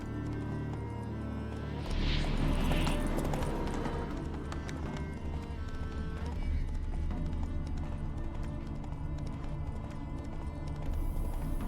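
Steady, fairly close hoofbeats from Roach, the horse in the video game Witcher 3, clip-clop in a continuous rhythm over game music and ambience, with a brief brighter rustle near the start.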